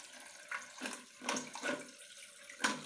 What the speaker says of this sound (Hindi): अब हमारा पानी प्रेशर से आने लगा है दोस्तों